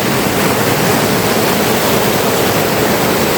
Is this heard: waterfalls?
yes